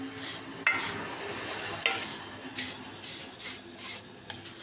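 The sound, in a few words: vermicelli being roasted and stirred in desi ghee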